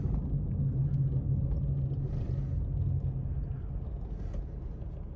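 A 1999 Chevrolet Cavalier car engine gives a steady, deep rumble close by, easing slightly toward the end, with no voices.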